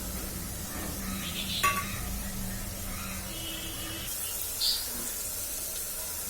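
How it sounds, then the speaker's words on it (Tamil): Masala sizzling gently in oil over a low flame while mutton biryani is being made, a soft steady crackle broken by a couple of brief stirring scrapes, with no talking. "சிம்மில் வச்சுட்டு இது நல்லா வந்து ஃப்ரை ஆகட்டும்."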